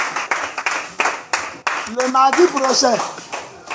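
A church congregation claps in a burst of acclaim for the Lord, sharp close claps in the first second and a half, then voices rise in speech and song over the scattered clapping.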